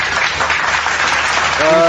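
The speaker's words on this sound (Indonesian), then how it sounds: "Tepuk tangan selalu, untuk Pak Akhi Jo." An audience claps loudly and densely for a short burst at an Indonesian religious talk, the applause blending with a voice.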